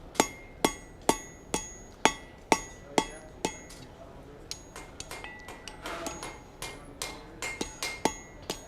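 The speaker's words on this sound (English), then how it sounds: "I'm going to hammer right next to the edge of the steel, or next to the edge of the anvil." A blacksmith's hammer strikes steel held at the edge of an anvil to shear it, about ten sharp, ringing evenly spaced blows followed by a quicker, lighter run of taps.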